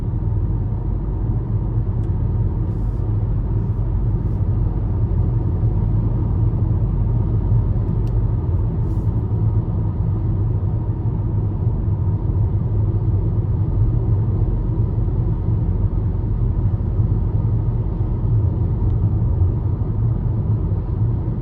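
2021 Ford EcoSport S with a 1-liter turbo engine pulling at high RPM, a steady droning cabin rumble with a constant engine hum that holds throughout, loud and close with no talking.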